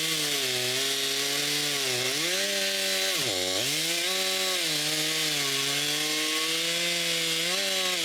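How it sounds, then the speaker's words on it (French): Chainsaw cutting the branches off a fallen tree in April at a cabin, engine steadily revving with pitch dips as the chain bites into wood, loud and close with no talking, running continuously throughout. "J'ai apporté ma bonne scie et on commence par couper les branches de l'arbre qui est tombé."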